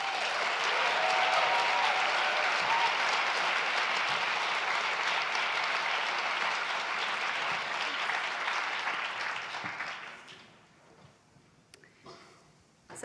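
A large audience breaks into sustained, dense applause as a speaker from the Economic Progress Institute is welcomed onstage. The clapping runs loud for about ten seconds, then fades to scattered claps and near quiet.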